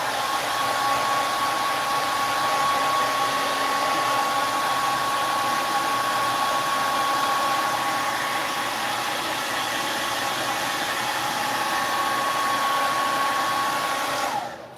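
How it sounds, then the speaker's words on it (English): A hair dryer runs steadily at close range to force-dry fresh putty, a constant broadband whir with a thin whine on top, cutting off abruptly at the end. "So I'm gonna hit this with the hair dryer, force dry this, and redo that putty work."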